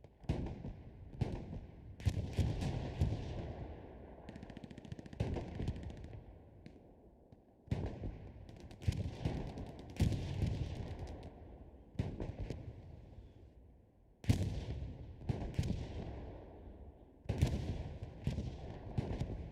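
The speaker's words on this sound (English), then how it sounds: "Insane artillery on both sides though. Damn, brutal artillery." Artillery shells keep landing in Hell Let Loose, with heavy booms and crackling blasts coming in repeated waves, each impact followed by debris and rumble over a continuous battle din.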